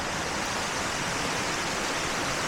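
Nam Khene Waterfall pours steadily during heavy rain, a dense, unbroken roar of rushing water and downpour filling the whole clip, close and loud with no voices over it.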